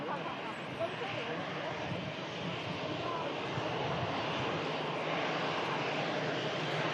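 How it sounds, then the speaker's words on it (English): A departing Saudia Airbus airliner gives off a steady, broad engine roar that holds even and unbroken throughout, with no clear rise or fall. "Final departure of the live show is going to be this Saudia."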